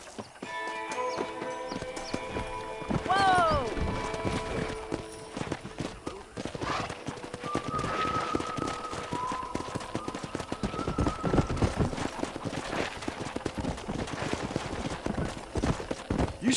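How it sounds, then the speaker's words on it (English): Horses in the Red Dead Redemption video game, with clip-clop hoof beats running steadily through a busy in-game soundscape, an occasional whinny rising over layered ambient sound and a few sharp bursts. "Let's see if we can't wrangle some horses."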